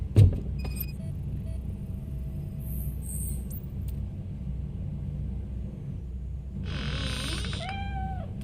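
A cat meows a few times in the Robocop: Rogue City video game, with a clear, fairly close meow arriving near the end over a steady low ambient rumble and faint background hum.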